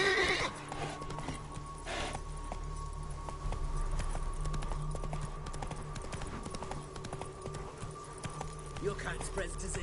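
Roach the horse from Witcher 3 galloping, with steady rhythmic hoofbeats running under game sounds and a neigh near the start, moderately faint with a voice talking.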